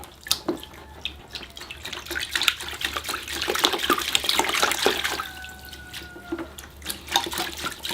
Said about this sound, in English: here I go, washing the root system